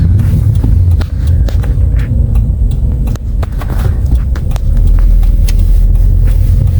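A car drives through a small Ukrainian town, a loud, steady low engine and road rumble close to the microphone, with faint rattles and bumps over the surface and no talking.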